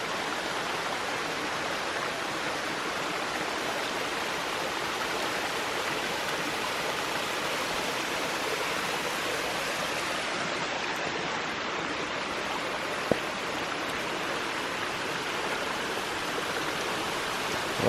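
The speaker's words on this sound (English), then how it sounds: "Another waterfall. Beautiful water source." A waterfall along the Appalachian Trail pours in a steady, dense rush of white noise, constant and fairly close for the whole stretch, with no voices.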